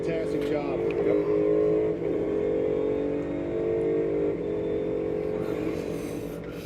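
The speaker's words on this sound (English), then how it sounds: "Listen to him downshift." A NASCAR race car downshifts as it passes, its engine drone holding steady with a few abrupt pitch drops amid a continuous, moderately loud roar.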